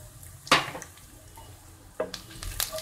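Poppy seeds, crushed coriander, cumin and asafoetida hit hot oil for a raw banana curry, giving two sharp sizzling bursts followed by brief scraping stirs in the pan.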